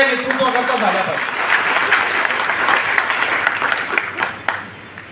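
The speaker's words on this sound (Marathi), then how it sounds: "जोरदार टाळ्या एकदा या नेतृत्वाकरता झाल्या पाहिजे." Loud, dense applause from a large audience at a convention, sustained for several seconds before easing off near the end.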